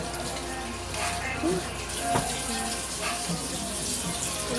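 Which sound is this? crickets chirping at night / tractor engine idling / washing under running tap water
washing under running tap water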